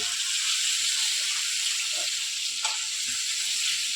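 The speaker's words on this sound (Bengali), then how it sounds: "বেশি ভাজছে না দেখো হালকা করে ভাজছে" Shrimp fry lightly in a pan for lau chingri, a Bengali bottle-gourd and prawn dish, with a continuous hissing sizzle and a few soft clinks and stirring touches.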